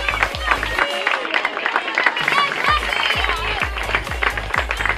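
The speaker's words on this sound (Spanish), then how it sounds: "Fuerte aplauso." A crowd at a swimming awards ceremony claps loudly and steadily, with music thumping underneath and voices mixed in.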